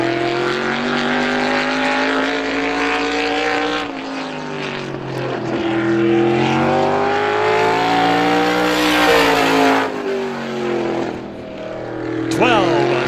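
Race car running a time-trial lap on a quarter-mile speedway, engine note rising and falling as it circles the track, loud and close, with an announcer talking over it throughout.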